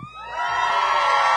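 A large crowd at a bass fishing tournament weigh-in cheers, whoops and yells, the noise swelling quickly from a brief lull into a loud, sustained roar.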